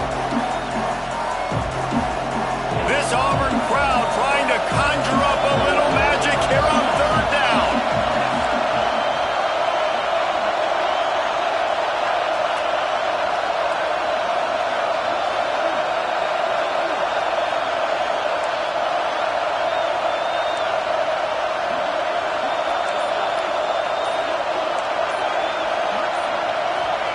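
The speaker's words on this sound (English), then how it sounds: "This Auburn crowd trying to conjure up a little magic" Crowd noise at Auburn in the Madden American football video game, a steady, moderately loud stadium roar held throughout, with commentary voices over the start.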